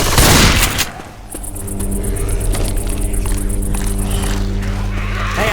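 Gunfire aimed at armored zombies rings out in Left 4 Dead 2. A loud burst of shots opens the clip, then a rumbling, busy backdrop with a sustained high-pitched whine continues, without clear talk.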